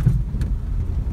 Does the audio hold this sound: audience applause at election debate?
no